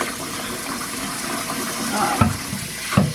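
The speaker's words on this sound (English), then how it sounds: "So I'm doing hot water." Hot water runs steadily from a household tap into a sink, a continuous close splashing hiss with a couple of louder bursts near the end as hands move under the stream.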